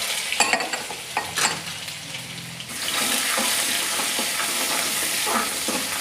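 Ginger garlic paste frying in hot oil with mustard seeds and cumin, a steady close sizzle that rises and holds after a few stirring clinks and scrapes at the start, with no talking.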